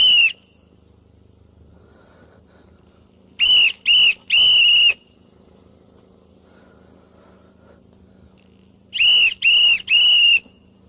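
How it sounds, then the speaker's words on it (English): Sharp, loud whistle blasts sounded as a warning code for ICE arriving at a street protest, one group of three quick blasts and then a second group of three a few seconds later, over a faint background. "Apparently 3 whistles is the ICE code is here!"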